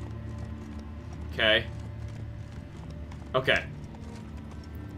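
Horse hooves clip-clopping in Witcher 3, a steady muffled patter under a voice, which speaks briefly twice.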